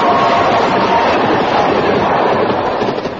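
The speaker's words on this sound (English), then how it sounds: "that could have been another train, man, but it went by so fast I couldn't really see" A train rushes past at speed on the London to Glasgow main line, a loud, close, continuous roar of wheels and rushing air lasting throughout, fading slightly at the end.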